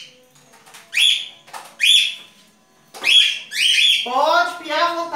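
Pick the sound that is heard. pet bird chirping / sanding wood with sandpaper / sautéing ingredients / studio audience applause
pet bird chirping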